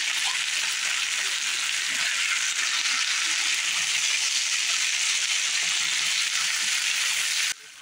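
Potatoes pan-frying in a pan make a steady, dense sizzle that continues without a break for several seconds and then drops off abruptly at the end, with no talking.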